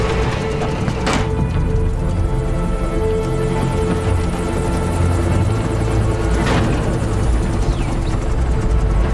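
A steady, loud helicopter drone with a dense rotor hum and engine whine, continuous throughout, close by, from the video game Metal Gear Solid V.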